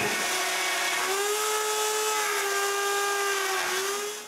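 A domino joiner bores mortises into wood, its motor whining at a steady, close high pitch that shifts slightly as it cuts, then begins winding down at the end.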